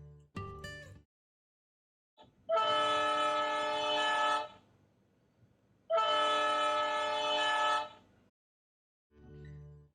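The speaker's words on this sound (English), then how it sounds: "Putting the same horn in a different sound slot, say Soundslot 4, does not give the same effect" Model train horn from a LokSound decoder sound slot, sounding two long sustained blasts of about two seconds each with a gap between, loud and clear, with brief mechanical sounds at the start and end.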